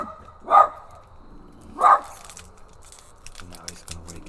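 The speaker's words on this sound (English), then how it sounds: "Here comes my hound. He's gonna start barking like a hellhound." A hound barks twice in short, loud bursts indoors, spaced about a second apart, with quieter sounds and a voice speaking around them.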